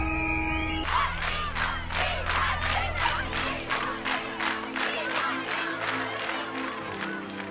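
A large crowd greets Pakistani cricket hero Imran Khan with loud, sustained cheering and rhythmic shouting in pulsing waves, following a brief tone at the start, heard close and continuous.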